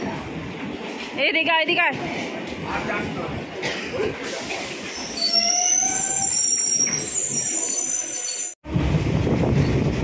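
Inside a commuter train on a suburban line, a continuous rumble of carriages runs with wheel and rail squeals, while people speak over it nearby.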